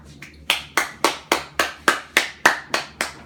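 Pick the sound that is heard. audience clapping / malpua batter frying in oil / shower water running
audience clapping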